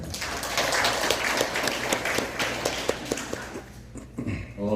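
Applause from the audience at a quarterly regular meeting of the Gangnam Peaceful Unification Advisory Council, dense clapping that holds steady for several seconds and then thins out toward the end.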